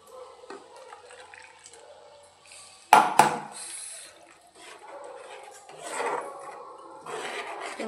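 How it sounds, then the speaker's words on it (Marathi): Hot water is poured from a metal pot into a cooking vessel, with a sharp clink of metal on metal followed by intermittent splashing and pouring, close and fairly quiet. "अजून टाकते जरा जास्तच पाणी"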